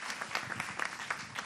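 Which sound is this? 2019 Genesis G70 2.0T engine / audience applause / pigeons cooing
audience applause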